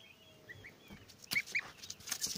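Geese kept at home call with a few soft honks early, then louder overlapping squawks and cackles near the end, fairly close and otherwise quiet, with no talking.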